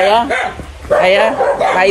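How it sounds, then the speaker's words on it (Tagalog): A dog barks and yips in short bursts near a family home, with high whining tones between the barks, while people talk loudly nearby over the top of it. "May aso ha."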